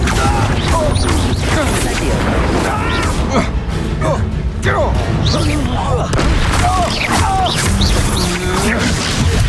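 Spell effects from Levioso and Accio in the game Hogwarts Legacy, a dense churn of booms, crashes, whooshes and creaking mechanisms, loud and continuous, mixed with voices talking throughout.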